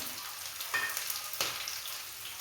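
Onions and curry leaves frying in oil after the mustard seeds have popped, in a heavy pan. A soft, steady sizzle is broken by two sharper bursts as ingredients hit the oil, with no voices.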